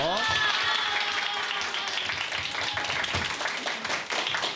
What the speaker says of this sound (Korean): 지금 수고한 자녀분들에게 박수 한 번 쳐주세요